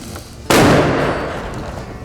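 A muzzleloader rifle fired at a 100-yard target on a late-season whitetail outing: a single sharp, loud blast after a quiet moment, followed by a long rumbling decay.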